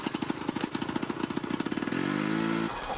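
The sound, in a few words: flooded engine sputtering, cartoon snowmobile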